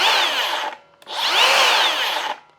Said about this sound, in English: You got that sweet electronic brake.